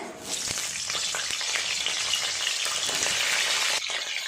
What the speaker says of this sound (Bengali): আগে কপিগুলো ভালো করে ভেজে নেব।